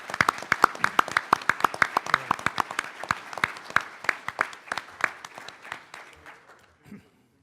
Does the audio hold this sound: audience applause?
yes